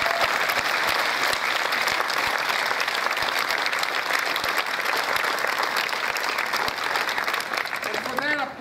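Sustained, loud audience applause for Korean War veterans fills the room, dense clapping steady throughout, with crowd noise and a few voices mixed in.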